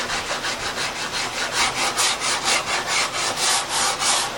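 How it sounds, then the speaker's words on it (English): A flat sander rubs back and forth along a wooden Strat guitar neck, a steady, close rasping stroke repeating about every third of a second with no pauses. "take the sander and I want to use a flat piece here"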